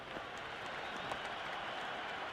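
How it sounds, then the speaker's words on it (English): A stadium crowd buzzes in the stands during a Cricket 26 video game match, a continuous dense murmur with scattered claps and cheers at moderate volume. "There's a buzz, a real buzz coming from the stands."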